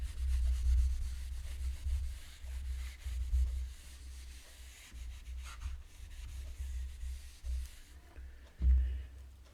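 Rubbing and wiping strokes from erasing writing on a board during a maths lesson, a steady low scrubbing texture with irregular swells and one louder stroke near the end, no talk over it.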